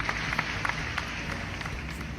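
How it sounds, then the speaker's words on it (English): A talk-show studio audience gives a warm round of applause, a dense, steady wash of clapping that lasts a couple of seconds. "let's give a warm round of applause to our first survivor"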